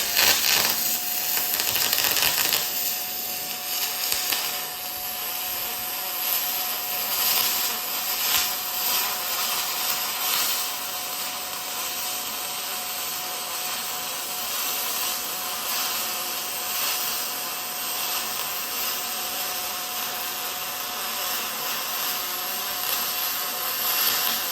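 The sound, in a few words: MIG welding aluminum with YesWelder LBT150 spool gun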